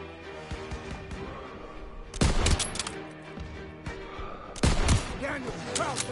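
Bursts of gunfire crackle through a World War 2 video game battle, with loud volleys of rifle and machine-gun fire at two points over a constant din of combat, while voices shout over the fighting.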